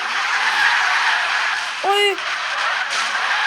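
A short tire screech from a car drifting in Car Simulator 2, rising briefly over a steady hiss of game noise, with a voice exclaiming once.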